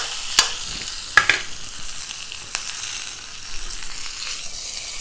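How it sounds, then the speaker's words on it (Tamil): Torn curry leaves hit hot oil for tempering in a bottle gourd milk kootu, giving a steady low sizzle with a few sharp crackles and pops scattered across it, close by and without talk. "கருவேப்பிலையை கிள்ளி சேர்த்துக்கிறேன். இதில் தாளித்து போட்டுடலாம்."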